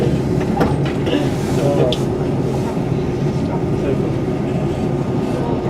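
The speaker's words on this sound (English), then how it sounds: "We're now arriving into Telford Central." A train pulling into Telford Central station: a steady, loud rolling rumble from inside the carriage, with faint rail clatter and a few light knocks throughout.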